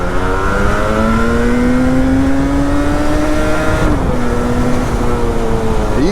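Yamaha RD two-stroke motorcycle engine revs loudly and steadily close by, pitch climbing gradually, dipping briefly, then rising again.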